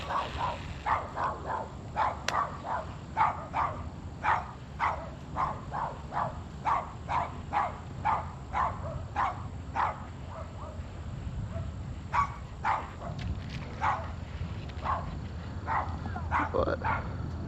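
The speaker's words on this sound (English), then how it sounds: "sorry about the dogs." Dogs bark repeatedly outdoors at a lakeside bass fishing spot, a steady run of sharp, fairly close barks over a low background rumble.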